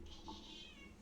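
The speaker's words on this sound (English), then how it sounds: "That's my cat. This is my home cat right here." A house cat gives a single short meow, faint and close in a quiet room.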